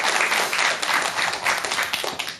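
Lay audience clapping for monks during a Buddhist dharma lecture, a dense, steady burst of many hands close by, loud and continuous across the moment, with no talking over it.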